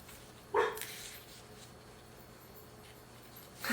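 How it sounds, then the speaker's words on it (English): A dog gives a single close, sharp bark and a second bark a few seconds later, over a quiet indoor background hum. "had to pause for a second to check if the dog was actually barking at anything."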